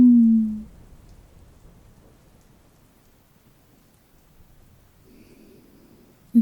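Steady soft rain during a nighttime thunderstorm, with a low rumble of thunder at the start and a faint swell later, heard close and gentle with no talking.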